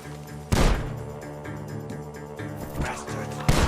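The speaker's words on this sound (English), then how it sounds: "The gunshots are coming from that barn." Gunfire from a barn in the video game Red Dead Redemption 2, sharp loud shots at the start and end with a fainter bang between, over a layered game soundscape.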